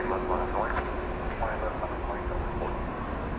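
A Boeing 747 taxis at DFW Airport toward a runway crossing, a steady broad engine rumble and whine heard from a distance with a faint constant tone, no voices in the clip.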